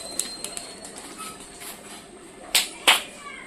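Giribaz pigeons released to fly, giving two sharp, close wing-clap bursts in quick succession near the end over a quiet outdoor background with faint scattered chirps.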